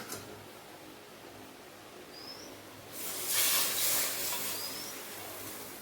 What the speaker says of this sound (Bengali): এবার 1 বাটি জল দেব